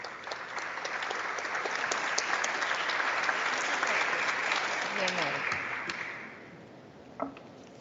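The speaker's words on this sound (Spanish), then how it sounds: "La recibimos con un fuerte aplauso" Audience applause at a congressional forum in Peru, a steady, moderately distant wash of clapping that builds, holds, then fades out near the end, followed by a brief knock.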